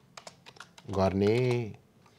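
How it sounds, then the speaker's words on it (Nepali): Quick clicks of typing on a computer keyboard in a home video-editing setup, a short irregular burst of close keystrokes, followed by a voice speaking over the quiet. "यहाँनिर गएर यहाँ टाइप गर्न थाल्छु"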